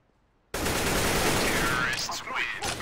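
Gunfire in the CS:GO video game, a dense sustained burst of rapid shots starting abruptly after a brief silence and continuing loud and close throughout, with no talking.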